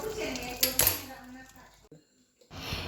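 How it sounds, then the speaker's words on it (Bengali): Khichuri is served onto plates. A spoon clinks against dishes in a brief cluster of bright knocks near the start, followed by softer handling sounds, a near-silent pause, and then a return of low background noise. "এবার একে একে সবাইয়ের খিচুড়ি বেড়ে নিচ্ছি"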